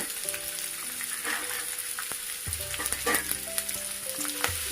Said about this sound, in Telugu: ఒక 1 మినిట్ వేగుతుందాం.